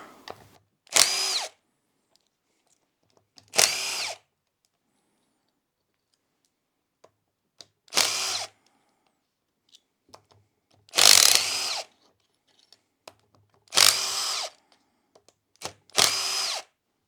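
A power tool whirs in six short, separate bursts with quiet gaps between them while removing the stator plate from a Honda ATC 250R engine.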